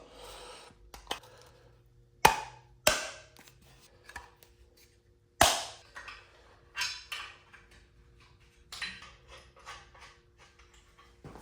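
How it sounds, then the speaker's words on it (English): Squat rack bushings pressed into steel brackets, heard as a string of sharp metallic clicks and clacks at an uneven pace, several louder knocks standing out, close by, with no talking. "we'll take the actual brackets and pop the bushings in"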